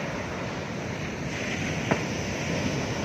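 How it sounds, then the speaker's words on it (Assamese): Sea waves surging up a beach on the Bay of Bengal at Mahabalipuram, a steady broadband wash of surf heard alone, with a brief louder splash near the middle. "এইটো ডাঙৰকৈ ঢৌ আহিছে"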